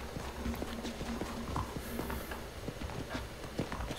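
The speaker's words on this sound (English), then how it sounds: "That's a nice horse." Steady hoof clip-clops of a walking horse in the video game Red Dead Redemption, regular and moderately close, over a low rumbling background.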